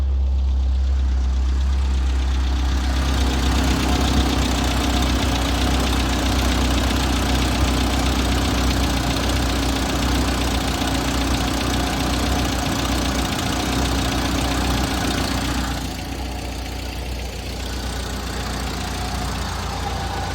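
A six-wheeled Toyota idles just after starting, a steady close, loud mid-to-low engine rumble with a faint knocking texture that holds throughout and eases slightly near the end.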